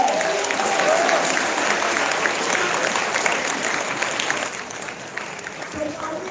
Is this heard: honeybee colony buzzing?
no